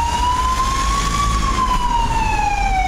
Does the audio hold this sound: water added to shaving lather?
no